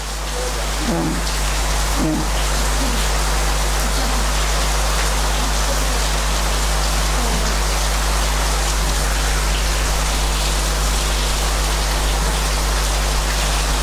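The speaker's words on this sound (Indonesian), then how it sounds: "Hujan enggak apa-apa?" Steady, heavy rain pours down as a loud, continuous hiss that fills the whole stretch, with a few faint knocks underneath.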